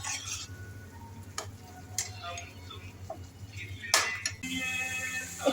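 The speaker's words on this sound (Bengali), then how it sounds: "এইটা এবার আমি চিকেনের সঙ্গে কিছুক্ষণ ভাজা ভাজা করে নিচ্ছি।" Chicken fries in a pan with bhuna masala, giving a quiet sizzle and a few scattered stirring scrapes and clatters, the sizzle rising louder near the end.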